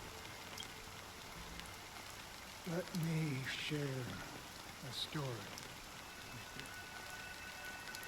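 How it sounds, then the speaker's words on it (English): Fine drizzle of rain in the video game Honkai: Star Rail, a soft continuous patter filling the background while a voice speaks over it. "Amidst the fine drizzle of black rain"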